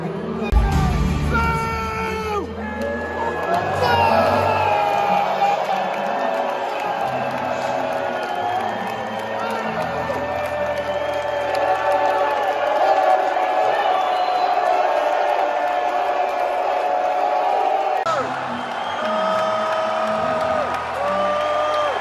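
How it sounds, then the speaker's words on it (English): A large Eurovision 2024 arena crowd booing a singer, a loud sustained roar of jeers and shouts over music, with cheering and whistles mixed in throughout. "I have never heard so many people booing, insulting and cursing a single singer."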